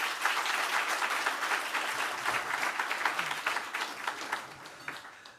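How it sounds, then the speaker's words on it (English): An arena crowd at a Philadelphia event applauds a list of local and state officials, a thick burst of clapping that stays strong, then thins and tapers off at the end. "Can you give them a round of applause?"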